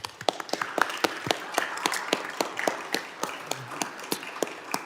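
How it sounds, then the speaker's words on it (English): Applause from an audience at a House Homeland Security subcommittee hearing: a steady patter of separate claps spread across the room, fairly faint and distant, with no talk over it. "if we could all give her a round of applause"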